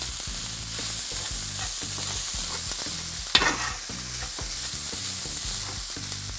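Seasoned beef being mixed with onion and garlic powder in a hot pan, a steady frying sizzle broken by rhythmic scraping and stirring strokes, with one brief louder clatter midway, close and alone.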